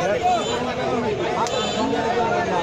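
Dense crowd chatter at the crowded Monipura cattle market in Narsingdi, Bangladesh, ahead of the Eid sacrifice, a steady babble of many voices with bustle throughout.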